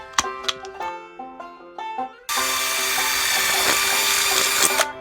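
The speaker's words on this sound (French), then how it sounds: "on va venir faire des trous tout le tour" A power drill fitted with a bit bores holes, with short whirring bursts that start and stop, then a long, loud, continuous high-pitched whine as the bit runs steadily, close by.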